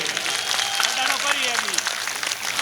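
An audience claps loudly to welcome elderly guests at a gathering with a saint. The dense applause is steady and continuous while someone speaks over it.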